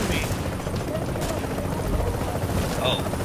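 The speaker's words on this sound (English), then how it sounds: "Where's the helicopter?" A helicopter in the video game Tom Clancy's The Division thrums as a dense steady rotor roar filling the scene, loud and continuous, with gunfire-like crackle mixed in.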